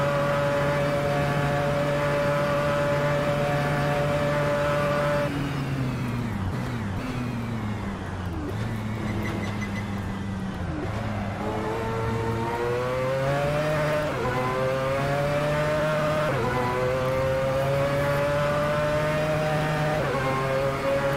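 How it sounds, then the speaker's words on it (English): Mazda 787B race car engine in Assetto Corsa, loud and continuous, with a steady high drone that drops and climbs through gear changes across several revving passes, with no voices over it. "this car is kind of loud"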